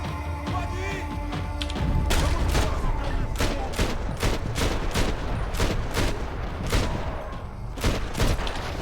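Rapid volley of gunfire in Max Payne 3, dense sharp shots in quick succession over several seconds, loud and close, with brief low thuds and crashes mixed in.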